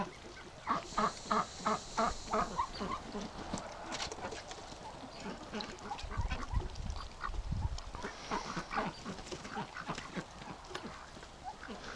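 Ducks on a duck-breeding homestead give repeated honking quacks in bursts, fairly close, over a steady outdoor background with scattered clatter.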